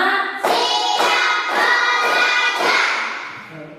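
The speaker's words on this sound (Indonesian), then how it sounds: "tepuk 5" Primary schoolchildren in a classroom perform a group clapping routine: five or so crisp, evenly timed bursts of many hands clapping together, mixed with children's chanting voices, tapering off at the end.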